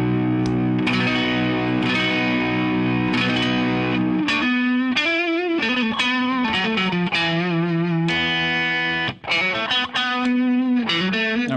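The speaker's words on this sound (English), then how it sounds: "there's a switch in the compression control section that allows you to add treble, to add some brightness" Electric guitar played through a Keeley compressor pedal with its treble brightness switch engaged, strummed chords and picked notes ringing with sustain and a slightly distorted edge, loud and close with no voices.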